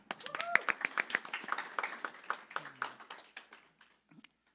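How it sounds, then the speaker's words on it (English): Hands clap in a steady burst of applause that fades out over about four seconds, with a few voices briefly audible early on. "Give yourself a round of applause"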